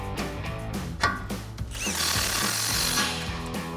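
Loud power tool with a 21mm deep socket tightening a tie rod nut on a 2004-2025 Ford F-150 front suspension, with a whirring, stuttering motor and a rising high-pitched whine midway.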